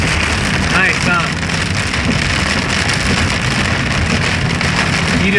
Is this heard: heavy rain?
yes